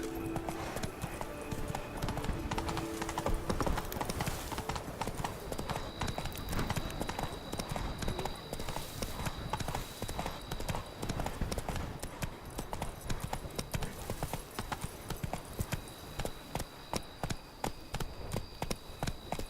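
A horse gallops in The Witcher 3 video game, with fast continuous clip-clop hoofbeats running throughout, up close and steady, over an ambient game soundtrack and occasional voices.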